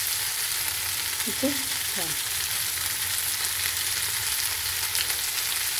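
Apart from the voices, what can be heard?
vegetables frying in pan, salted and stirred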